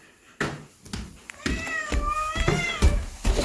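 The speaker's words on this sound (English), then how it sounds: "Oh, there's another kitty howling." A cat meows repeatedly with drawn-out, wavering cries, close by, mixed with a few thumps and soft background noise.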